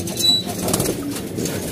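Pigeons' wings flap in a rapid, fluttering burst as the birds are caught by hand, a close, busy whirr of feathers running throughout with no talking.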